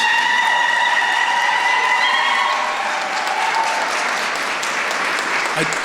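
An audience at a Native American Heritage Month celebration breaks into loud, sustained applause, a dense wash of clapping that fades slightly toward the end.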